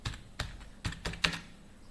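Typing on a computer keyboard, about five or six quick, close key clacks in an uneven rhythm, heard alone without speech.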